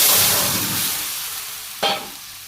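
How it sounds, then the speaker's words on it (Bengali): Curry poured into a hot pan hits with a brief fresh burst of sizzling, following a fading, steady frying hiss, with no voices. "এই তরকারি ঢেলে দিলাম"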